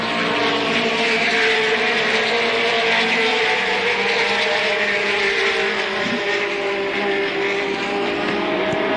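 ASA stock race cars roar back up to speed on a restart at Capital, a dense wall of engines at full throttle filling the track for the whole stretch, steady and loud with no one speaking.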